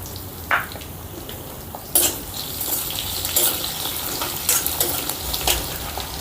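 About twenty finely chopped garlic cloves drop into hot tempering oil with curry leaves and sizzle loudly and close, with a steady frying hiss and sharp bursts of crackling as they are stirred.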